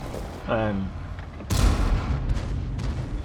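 An M60 tank cannon firing a HEAT round in World of Tanks, a single loud, sharp boom with a rumbling decay, preceded by a brief tonal sound and followed by lighter background battle noise.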